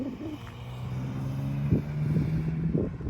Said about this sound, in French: ce doux bruit du flat 6